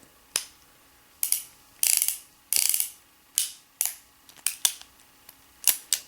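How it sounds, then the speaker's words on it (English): A stainless Ruger New Model Blackhawk .357 Magnum revolver's action is worked by hand, giving crisp metallic clicks and ratcheting cylinder rotations in irregular bursts, close and clear with no talking. "just hearing the clicking too. Just the noises this gun makes."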